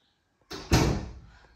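A door to a family room swings shut at home with a soft initial movement followed by a solid thump and short fading rattle, close and isolated with no talk.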